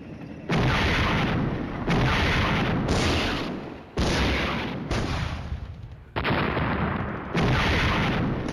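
Tanks fire in Flashpoint Campaigns: Red Storm, a Cold War wargame, as a rapid series of heavy booming blasts, each dense and loud with a short decaying tail, about seven in all with no voices.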